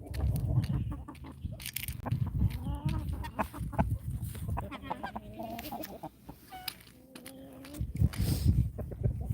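Farmyard chickens clucking and calling busily at close range while being fed breakfast on a homestead on Christmas morning, with several birds overlapping in a steady chatter and occasional human sounds mixed in.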